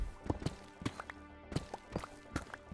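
Hooves of a horse in the Minecraft video game clip-clop in a quick, uneven run of hollow taps, fairly close and moderately quiet, with no talk over them.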